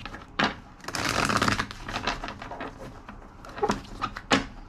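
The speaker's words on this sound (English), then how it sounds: "Two more shuffles." A deck of tarot cards is shuffled by hand in quiet bursts, soft riffling and flicking with a few sharper snaps near the start and end, close by and fairly faint with no talking.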